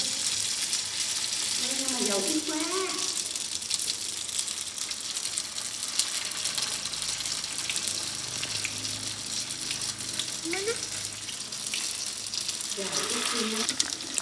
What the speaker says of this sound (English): And now we deep fry them.